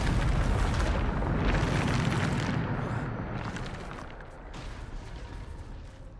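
A Bombarda spell explosion in Hogwarts Legacy: a loud, sustained roaring blast with rumbling debris that slowly fades into a softer crackling tail, with no voices.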